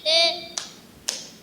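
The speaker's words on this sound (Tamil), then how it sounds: "கைத்தட்டு." Children clap hands twice, two sharp separate claps, during a Tamil Bible song sung by children; a child's sung note comes first.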